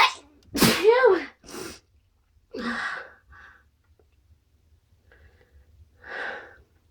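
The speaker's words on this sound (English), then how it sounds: "I'm gonna sneeze again." A person sneezes loudly up close, followed by breathy exhales, a softer sniff and sighing breaths with quiet pauses between them.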